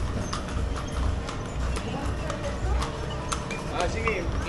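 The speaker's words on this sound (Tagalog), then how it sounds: "Ang daming kabayo." Horses clip-clopping on a street in Vigan, Calle Crisologo, Ilocos Sur, hooves tapping steadily over busy outdoor crowd noise with people chatting nearby.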